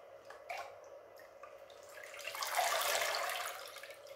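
Water poured into potted plants, with a light trickle and splash that builds into a steady, close pour toward the end, and no talking.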